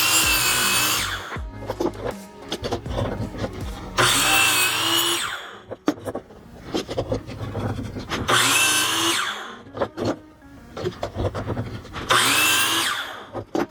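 Power saw cutting a clamped wooden board into pieces for a geometric Christmas tree, four loud close whining cuts, each a few seconds long, with clatter and handling noise between them.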